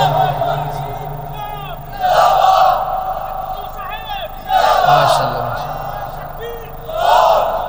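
A crowd at a sermon shouts the chant 'Lillahi Takbir' in loud unison, answering a leader's call in repeated rising bursts, close and booming, with a voice prompting between the shouts.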